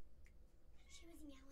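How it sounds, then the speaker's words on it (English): A soft cat meow rises and falls near the end, quiet against a low background hum. "She was meowing."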